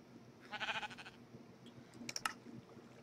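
Sheep bleat in a farming video game, one wavering bleat up front and a few faint clicks later, all quiet over a low steady hum with no talking.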